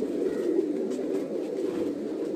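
Soft, low cooing of pigeons on a rooftop in Delhi, continuous and fairly close, with a faint rustle in the background.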